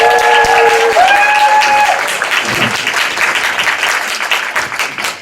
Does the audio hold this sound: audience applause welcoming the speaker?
yes